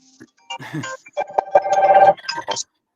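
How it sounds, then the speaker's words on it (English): A telephone rings in short, bright electronic tones during an online sports chat stream, heard close and mixed in with voices talking. "Answer your phone call, Chemical."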